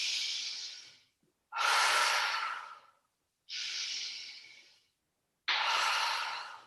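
Slow, deliberate breaths during an exercise routine, four long airy inhales and exhales separated by short pauses, close and steady with no talking.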